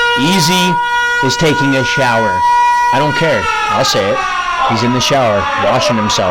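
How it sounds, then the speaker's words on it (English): A siren sound effect marking the hot seat segment of an interview show wails steadily behind loud, close talking that continues throughout. "That siren means it's time for the hot seat."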